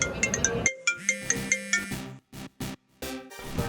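A telephone ringtone rings for an incoming call, a repeating electronic melody that plays steadily and fairly loud, with short gaps near the end.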